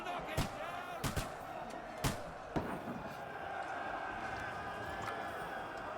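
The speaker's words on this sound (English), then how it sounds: "Y'all might have noticed you can hear guns firing." Hand cannons firing in the game Kingdom Come Deliverance 2, a few sharp booming shots spaced over the first half, then a steady background rumble of battle with no further blasts.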